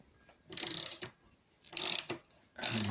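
Ratchet wrench loosening T40 grab handle bolts on the rear of a 1998 Suzuki Bandit 1200 GSF motorcycle, three close, loud bursts of rapid clicking separated by short pauses.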